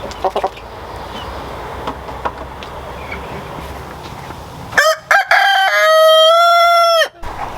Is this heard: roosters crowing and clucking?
yes